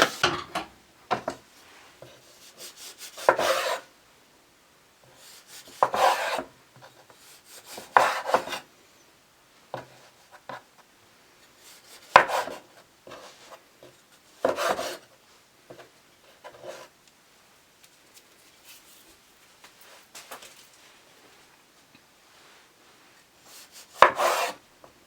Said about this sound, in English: I'm going to go ahead and grease this pan.